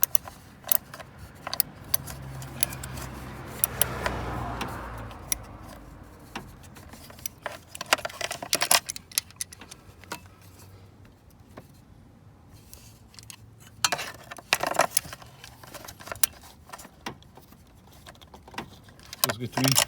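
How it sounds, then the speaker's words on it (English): Metallic clicking of a ratchet tightening bolts on a car part comes in scattered sharp bursts, close and fairly quiet, with a brief muffled voice early on. "I'm going to now tighten them with my trusty ratchet."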